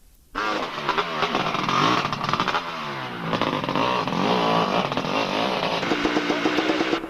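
A sidecar motorcycle engine revs hard and repeatedly at a water splash during the Welsh Two Day trial, the loud buzzing note rising and falling in quick bursts throughout.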